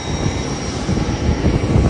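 Steady, loud engine hum of a private jet aircraft, droning continuously with no pauses and no voices over it.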